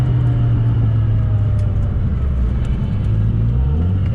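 A 900HP Nissan R32 Skyline GTR drones steadily from inside the car while driving, a loud, constant low engine hum and road rumble with no speech.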